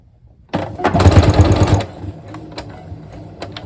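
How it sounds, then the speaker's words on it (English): Sewing machine stitching a Grinch-themed Christmas tablecloth, one fast whirring run of a little over a second, close and fairly loud, then stopping, leaving a quiet room with faint clicks. "I'm going to go ahead and start sewing."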